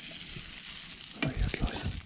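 Sausage frying in a pan over a campfire outdoors, a steady close sizzle with a few stirring or shifting sounds toward the end, no talk.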